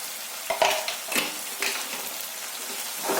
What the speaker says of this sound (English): Mix it well and let the raw smell of the masalas go.